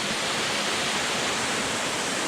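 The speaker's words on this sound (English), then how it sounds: "we're kind of up at the top of that same waterfall" A mountain brook's waterfall on the Beaver Brook trail of Mount Moosilauke roars close by as a dense, steady broadband wash of falling water, with no break and no voices.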